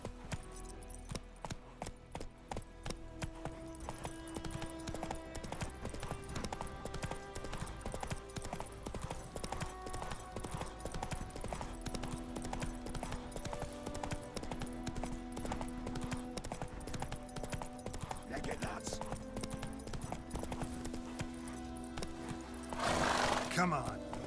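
Hooves of Roach, Geralt's horse in The Witcher 3: Wild Hunt, beating a steady galloping rhythm under game music throughout, with a brief louder burst near the end.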